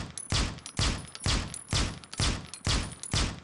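An M14 auto sniper rifle firing in Critical Ops, seven loud, evenly spaced shots about half a second apart, each a sharp crack with a short decaying tail, close and alone.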